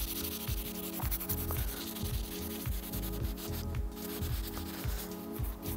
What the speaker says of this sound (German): wir machen hier ein bisschen von unserer Polierpaste drauf, suchen uns ein geeignetes Teil, zum Beispiel hier den linken Kurbelarm, und dann reiben wir das Ganze so ein